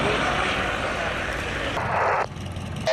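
A light aircraft taking off from runway 27, heard as a loud, steady broadband engine roar that cuts off abruptly near the end.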